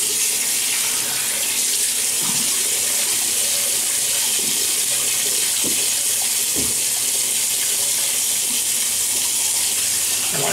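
A bathroom tap runs steadily at full flow as the face is wetted for shaving, a loud continuous hiss with faint splashes and small knocks from hands in the water.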